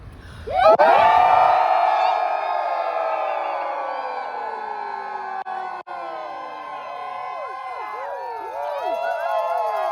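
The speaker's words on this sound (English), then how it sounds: "let's hear a big primal scream in support of our Lady Liberty and our freedom" A crowd at a Lady Liberty and freedom event lets out a big primal scream, a loud, sustained mass of voices that swells suddenly and holds for several seconds before wavering.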